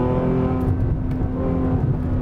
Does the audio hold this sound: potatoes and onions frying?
no